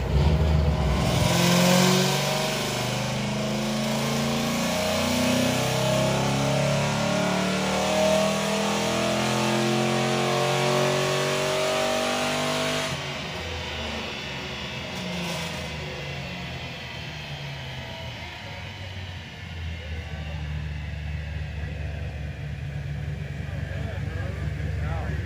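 Cammed 2005 Mustang engine on a Dynojet dyno, revving hard in one long rising pull that climbs in pitch for about thirteen seconds, then drops back to a lumpy idle as people talk nearby.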